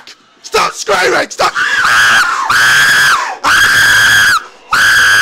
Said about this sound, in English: Screaming!